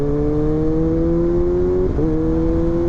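A motorcycle engine runs at a steady, close drone, then briefly dips and recovers near the end as it is shifted back into first gear with a quickshifter.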